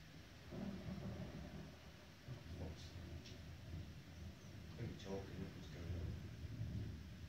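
Low, distant thunder rumbles on and off during a thunderstorm over Burton on Trent, with faint rain in the background and no clear speech.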